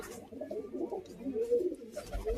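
Pigeons cooing close by after a racing pigeon is let go from the hand, soft throaty coos rolling continuously through the moment with a faint low thump near the end.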